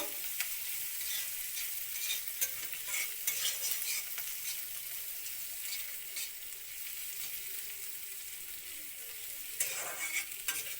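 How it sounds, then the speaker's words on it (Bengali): Chopped onions fry in hot oil for a fish-roe curry, a steady close sizzle with frequent scraping stir strokes running throughout and no voices. "পেঁয়াজগুলো লাল লাল হয়ে ভাজা হইব"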